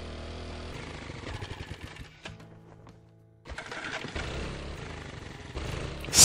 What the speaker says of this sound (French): j'ai envie de rentrer à la moto